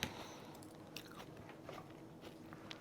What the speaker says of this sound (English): finish chewing before I speak,